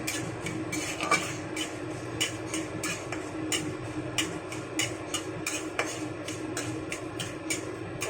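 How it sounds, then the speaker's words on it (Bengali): Dried red chillies and black mustard seeds tempering in hot oil, stirred with a metal spoon that scrapes and taps the pan in a quick, irregular rhythm over a low sizzle, close by with no talking. "এটাকে সুন্দর করে নাড়াচাড়া করে আমি ভেজে নিই"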